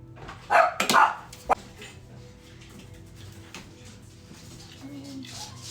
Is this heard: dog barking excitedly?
yes